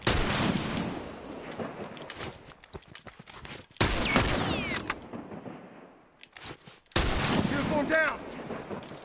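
Rifle gunfire in a video game arrives as loud sharp bursts, each followed by a decaying tail, with three main volleys separated by brief quieter gaps.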